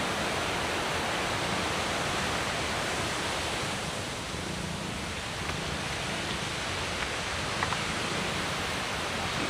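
Waterfall at an irrigation dam, heard from the top of the falls: a loud, steady broadband roar of rushing water fills the whole clip without pause.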